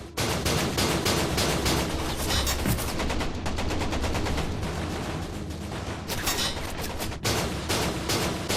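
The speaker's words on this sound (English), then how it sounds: "And its sailors open fire with their guns." Gunfire from sailors aboard a World War II tanker, dense rapid bursts of shots crackling continuously for several seconds with brief pauses, loud and close, with no talk.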